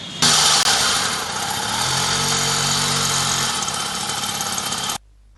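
An old motorcycle engine runs steadily and loudly up close during repair work in a Benin mechanic's shop, a rough mechanical roar with a deeper idling drone swelling midway before cutting off abruptly.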